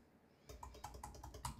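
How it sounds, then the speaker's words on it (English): Quiet, close tapping on a computer keyboard, a run of evenly spaced keystrokes that starts after a brief silent moment and keeps a steady rhythm to the end. "So now when I start typing something in,"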